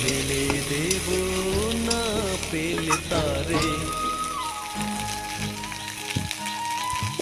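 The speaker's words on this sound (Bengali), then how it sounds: "এদিকে আমি পেঁয়াজ রসুনগুলা ঝালগুলা ভেজে নিচ্ছি সুন্দর করে।" Onion, garlic and chili frying in a pan, giving a continuous close sizzle with stirring scrapes and some clinks, steady throughout.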